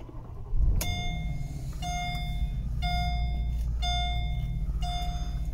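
A 2007 Mercedes-Benz SL550 started with a key: a short burst as the engine catches and settles into a steady low idle, with a warning chime repeating about once a second over it.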